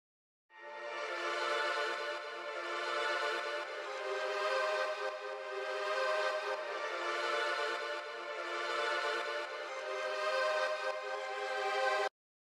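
Lush analog-style string pad from a modern strings sample pack, a sustained warm chord swelling gently in slow waves and holding steady for about eleven seconds before cutting off, with no voices.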